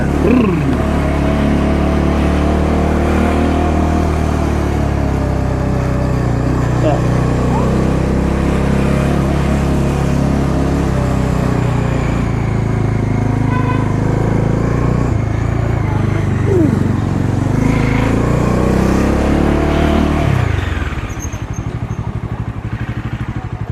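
A motorcycle ridden along a quiet, traffic-free road, its engine droning steadily and loud with wind rush throughout, pitch rising and falling slightly as it changes speed, easing off near the end.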